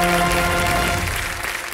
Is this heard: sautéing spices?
no